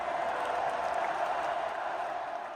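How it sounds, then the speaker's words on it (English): A crowd at a high school game cheers and claps, a dense, steady roar of voices and applause that stays even throughout before easing slightly at the end. "Did I just hear people cheering?"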